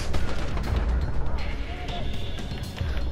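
Video game gunfire and explosive booms from Borderlands 2, loud and dense throughout, mixed with game sound effects and excited talk from players.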